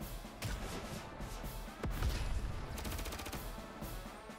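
Units attacking a tank in the Advance Wars Re-Boot Camp video game, heard as a quick burst of rapid gunfire and crashing impacts with a heavy thump partway through, fairly loud game combat effects.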